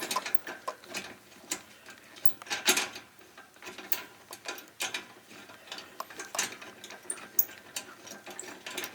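A wrench works at rusted exhaust bolts on a Nissan 350Z fitted with a Borla Extreme exhaust, making steady rapid ratcheting clicks and metallic ticking. The sound is close and continuous, with no speech.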